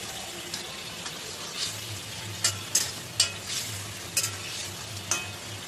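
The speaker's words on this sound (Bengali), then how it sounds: "ঝোলটা আমার ফুটে গেছে, এবার আমি বেগুনগুলো আস্তে আস্তে ছেড়ে দেব।" Eggplant pieces go into boiling yogurt gravy in a pan, giving a constant bubbling hiss with scattered spoon scrapes and taps against the pan at irregular intervals, close and without talk.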